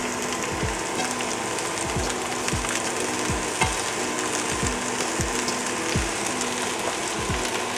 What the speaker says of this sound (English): So now that oil is rippling, then I'll add all of the onions